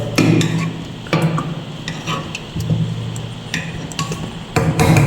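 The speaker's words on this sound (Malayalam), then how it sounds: "ഇനി നമുക്ക് ഒന്നുകൂടെ ഒന്ന് ഇളക്കി കൊടുക്കാം" Salted mango pieces for a traditional pickle are stirred in a bowl, giving close, fairly loud bursts of scraping and clinking at irregular intervals, with no voices.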